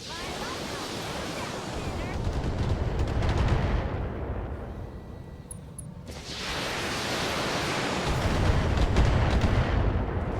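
Mech weapons firing in BattleTech: loud, sustained roaring blasts with a brief lull in the middle before a second heavy barrage.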